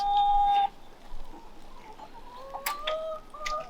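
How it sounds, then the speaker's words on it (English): A chicken clucking close by, a few short tonal calls and squawks broken up by brief pauses. "is that a chicken?"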